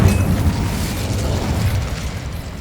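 An Incendio fire spell is cast in Hogwarts Legacy, a loud, dense burst of roaring flame and low rumble that hits at once and fades slowly over a couple of seconds.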